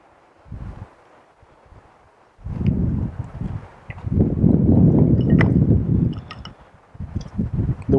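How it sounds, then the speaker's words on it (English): Strong wind gusts outdoors batter a microphone in bursts of low rumbling buffeting, loudest in a long surge midway, with faint rustling between gusts. "The wind's blowing pretty hard out here."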